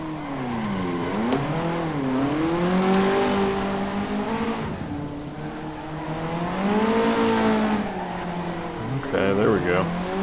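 A simulated car drifts in Assetto Corsa, its engine note rising and falling as the revs swing through the transitions, loud and continuous. Someone talks over it throughout.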